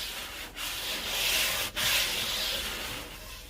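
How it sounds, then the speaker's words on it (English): A sanding sponge rubs back and forth over model railroad roadbed in steady, close strokes, a continuous dry scratchy hiss with two brief pauses as the stroke direction changes. "basically I just take my sanding sponge. I'll go back and forth a couple times"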